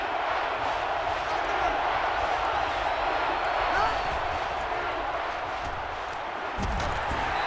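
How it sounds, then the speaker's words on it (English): Stadium crowd in NCAA Football 13, USC at Oregon, roars continuously as a dense, steady wash of cheering noise with no breaks, moderately loud and distant-sounding. "And this crowd is going crazy."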